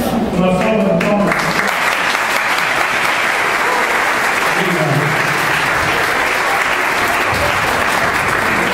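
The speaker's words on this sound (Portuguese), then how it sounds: "Uma salva de palmas." A graduation ceremony crowd breaks into sustained, loud applause, the clapping starting about a second in after a brief voice and continuing evenly to the end.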